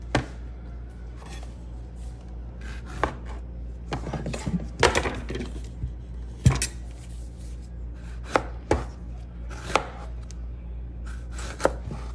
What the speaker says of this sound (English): And you slice red onion.